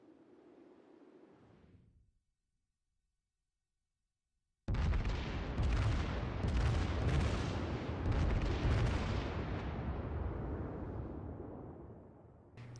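Heavy battleship gun salvos in World of Warships, with the Fuso in battle: a dense, loud wall of booming blasts and rumbling fire that suddenly erupts after a quiet gap and carries on steadily.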